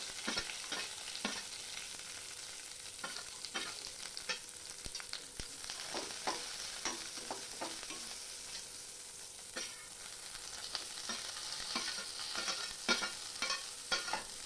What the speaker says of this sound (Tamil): வெங்காயம் நல்லா வதங்கி நிறமாறுற வரைக்கும் வதக்கிக்கலாம்.